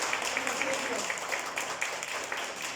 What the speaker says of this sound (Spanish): Un aplauso al Señor por la vida de José Luis.